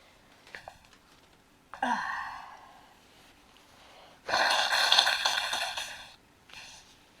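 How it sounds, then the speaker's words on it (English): A few quick sniffs, then two honking nose blows into toilet paper close by, the second one longer and louder, trailing off into a brief last puff. "Blow my nose."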